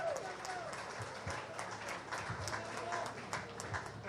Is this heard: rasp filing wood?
no